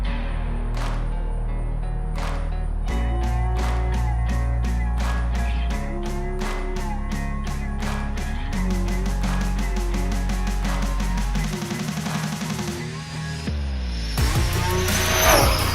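A stock-motor Arrma Big Rock RC truck on a 4S setup makes a full-throttle speed run, its electric motor whining and climbing steadily in pitch over many seconds before a loud rushing pass near the end.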